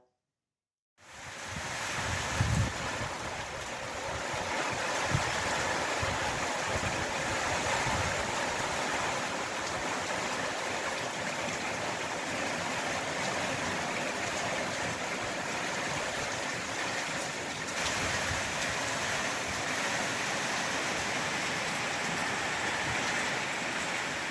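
Torrential rain pours steadily outside an off-grid farm cottage, a dense, continuous roar of water holding at the same heavy level throughout with no voices.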